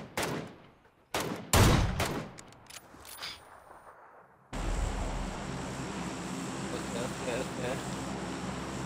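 Gunfire in a Warzone-style online shooter at a quarry: several loud, sharp bursts and single cracks come close together, then a steady rushing wash of game ambience takes over for the second half.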